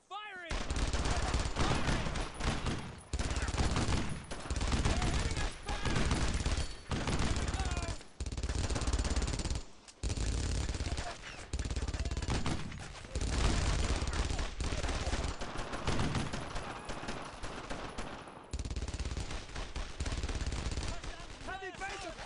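Rapid bursts of rifle and machine-gun fire from the World War II shooter Brothers in Arms: Road to Hill 30 crackle loudly and almost continuously, broken by brief gaps, with game music and voices faintly underneath.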